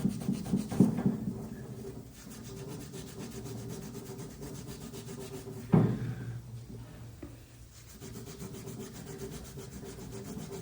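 Allis B tractor parts being scrubbed with degreaser, heard as close, quiet rubbing and scraping strokes with a couple of sharper scuffs and no voices.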